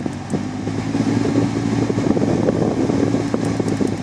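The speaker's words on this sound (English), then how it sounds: "It's a very strong, powerful AC unit." An Audi A3 1.6 S-Line's air conditioning fan runs at full speed inside the car, making a loud, steady rushing whoosh with a low hum and faint flutter throughout, close to the listener with no speech.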